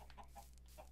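Chickens clucking in a Minecraft-style video game, several short soft clucks spaced through a quiet background with a slightly louder squawk at the end, no voices.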